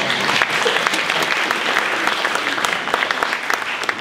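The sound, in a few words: audience applause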